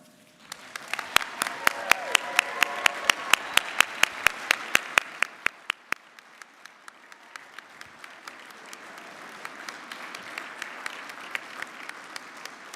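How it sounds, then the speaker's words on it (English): Crowd at a 2021 college commencement in Colorado's Roaring Fork Valley applauds the graduating class; crisp claps are dense and loud at first, then thin after about five seconds into scattered, separate claps. "as we applaud you for the first time, the graduating class of 2021"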